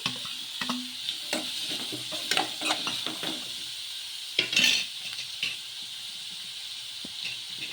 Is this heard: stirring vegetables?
yes